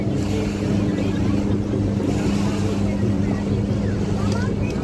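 A constant, droning motorboat engine hums over rushing water and wind noise on a boat cruise at Gananoque in the Thousand Islands, steady throughout without pause.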